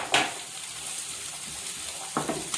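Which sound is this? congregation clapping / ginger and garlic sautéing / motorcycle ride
ginger and garlic sautéing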